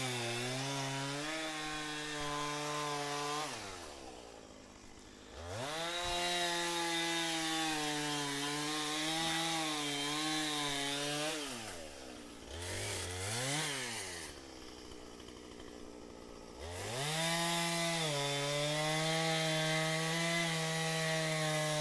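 A chainsaw bucks dry logs, the engine holding a loud, steady whine through each cut, then dipping and revving back up between cuts, repeated several times with no talking.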